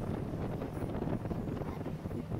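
Wind blows across a boat on the water in the Thousand Islands of Ontario, a rough, gusty rumble pressing on the microphone, steady and fairly loud, with a voice faintly mixed in.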